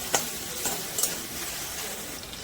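Fish mixture with ginger and garlic being sautéed in a pan for fish kachori, a steady soft sizzle with a few sharp scrapes of stirring, close and fairly quiet, with no talking.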